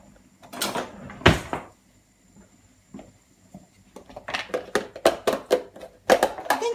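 A kitchen drawer is opened to fetch a cheese grater, followed by a run of close, sharp wooden knocks and metal utensil clatter as it is rummaged through. No one speaks.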